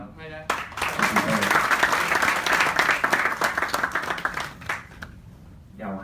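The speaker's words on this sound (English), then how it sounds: "And please give applause to" An audience clapping at the Mister Global 2018 sashing ceremony in Bangkok: a dense burst of applause rising quickly after someone speaks, sustained for several seconds and then fading as a voice returns.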